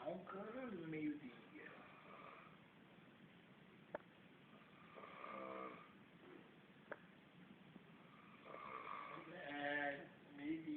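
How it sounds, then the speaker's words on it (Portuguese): A man snores at midday, his rasping, drawn-out breaths recurring in slow cycles of several seconds, close and fairly loud on thin, muffled audio. "Ele tá roncando no meio-dia."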